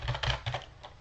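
Keys on a computer keyboard clack as a password is typed, a few close, moderately loud taps bunched in a quick burst with no voices.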